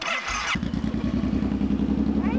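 A motorcycle engine idles nearby with a steady, throbbing low rumble after a brief burst of noise at the start.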